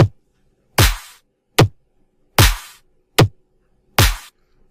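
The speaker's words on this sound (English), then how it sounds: "And in the end, I got kind of cool combo with my drums." Programmed drum combo of punchy layered claps and short 808 hits, five sharp, loud, evenly spaced strikes, each with a quick low thump and a bright snap that decays quickly.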